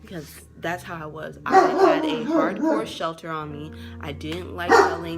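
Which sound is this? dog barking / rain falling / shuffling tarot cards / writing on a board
dog barking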